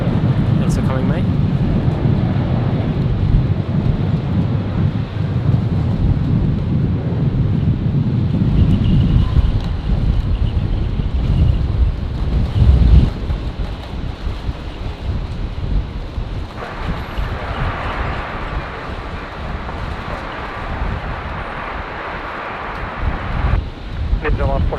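Strong wind at Brisbane Airport buffets the microphone in heavy, continuous gusts and rumbles, easing somewhat partway through, with a faint distant aircraft drone underneath.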